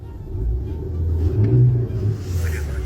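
A car engine revs as the gas pedal is pressed, a loud, close rumbling roar that swells and peaks midway before easing slightly, with faint voices in the background.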